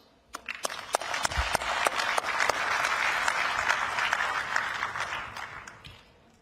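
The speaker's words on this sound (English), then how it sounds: "I would like to take this opportunity to thank them with a big round of applause" Audience applause at the opening of Energy Day at the COP28 climate conference, a sustained round of many hands clapping that swells, holds steady and tapers off near the end, with no talking over it.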